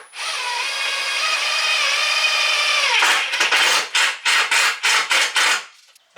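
A power drill drives Tek self-drilling screws into metal: a loud steady whine for about three seconds, then a run of short bursts as the driver pulses, close and with no talk.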